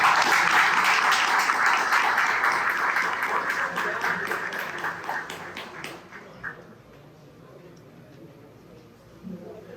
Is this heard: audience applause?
yes